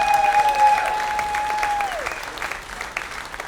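A live comedy show audience applauds a stand-up comic, a steady spread of clapping from the crowd with a brief tonal ring, likely feedback, fading out near the start.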